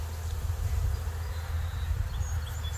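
Honey bees hum around a hive being split outdoors, a steady low drone of many wings with faint higher buzzes drifting past nearby.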